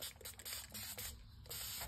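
Water spray misted onto paper to moisten it for a crafted tag: a series of quick, soft hissing spritzes in close succession, faint and close-up, with no talking.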